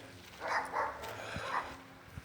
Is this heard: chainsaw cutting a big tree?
no